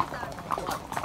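A horse walks along a jungle trail in Jamaica on a horseback ride. A few irregular hoof clops are heard close by, while a person talks over them.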